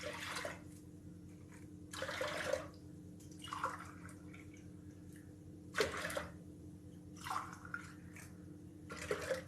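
Water is poured into rice and dal in a cooking pot for ven pongal, making several separate bursts of splashing, each lasting about a second, against a quiet kitchen background.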